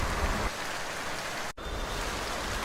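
Steady, dense rain pours down in an animated children's story, a constant close hiss that breaks off for an instant midway before resuming.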